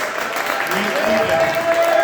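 An audience at a poetry showcase applauds in a steady, dense wash of clapping, with voices calling out over it.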